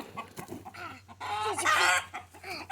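A rooster held by its feet clucks and squawks in a series of agitated calls, close by, growing louder and harsher toward the end.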